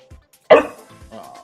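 A pet dog lets out one sharp, loud bark close by, followed by softer yips and whines.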